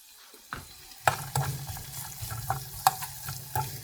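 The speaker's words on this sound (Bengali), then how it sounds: "শুটকি মাছটা আমি ইচ্ছা করে অনেকক্ষণ ধরে ভাজা দিব" Loitta shutki, dried fish, frying in a pan on an outdoor gas stove, a soft sizzle broken by a few sharp clacks of a utensil against the pan, close and fairly quiet, with no voices.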